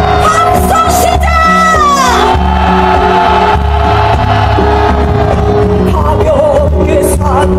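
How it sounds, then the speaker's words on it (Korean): A large street protest crowd during a general strike rally, roaring with loud sustained shouts and cheers, a dense wall of voices with yells rising above it, close and continuous throughout. "민주시민이여 함성 시작."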